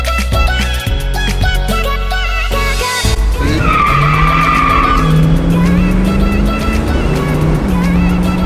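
A 1966 Ford Mustang skids with loud, close tire squeal and a roaring engine, the screech rising and shifting pitch over several seconds.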